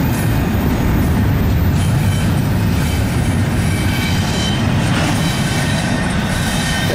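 A loud CSX manifest freight train rumbling past up close, a dense continuous roar of wheels on track with faint metallic squeal, no voices.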